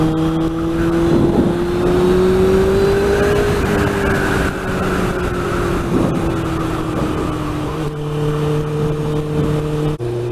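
A 1998 Suzuki GSX-R 600 motorcycle is ridden, its engine a loud, close, continuous drone that shifts pitch slightly up and down, with wind noise over it.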